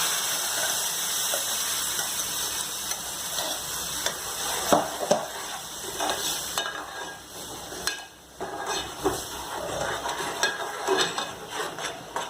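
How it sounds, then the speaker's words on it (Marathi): Ground masala paste goes into hot oil for a Bombay duck (bombil) curry, giving a close, continuous sizzle with stirring and scraping clatter and a short pause midway, no talking. "हे आपण जे वाटण वाटलं ते आता ह्याच्यात आपण टाकू."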